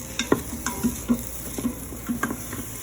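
Chopped onions and garlic sizzle steadily in a pan while a spoon stirs them, adding soft, regular taps and scrapes over the continuous frying hiss.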